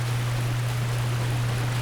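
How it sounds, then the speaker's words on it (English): Steady rushing splash of a character running through water in Dark Souls, an even, noisy wash under a constant low game hum. "It's going to allow me to run through this water with no problem."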